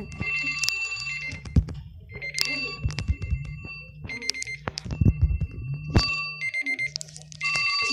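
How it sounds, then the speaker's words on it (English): An in-game alarm in Creative Destruction rings over and over in a repeating pattern, loud and near, mixed with game clatter and impacts. "Freaking alarms!"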